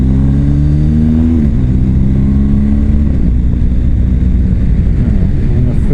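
A rally car rounds a tight hairpin on the Vilnius to Monte Carlo run, its engine loud and close. The pitch drops at a quick gear change, then climbs steadily as it accelerates again, with no talk.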